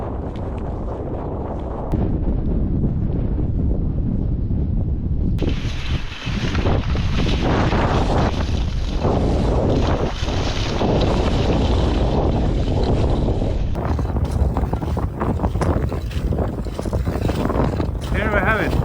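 Strong wind roars across an exposed mountainside in Swedish Lapland, a loud, continuous buffeting rush battering the microphone, with a person talking briefly over it.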